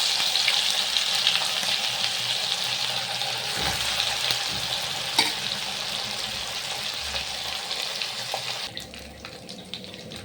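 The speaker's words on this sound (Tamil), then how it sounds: "மீன் ஒன்று ஒன்றா போட்டு" Sardines frying in hot oil in a pan, with a steady, dense, crackling sizzle that runs close and loud for the whole stretch, no voices.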